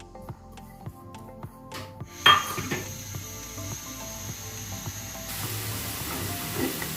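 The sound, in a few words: onions frying in cooking oil in a kadai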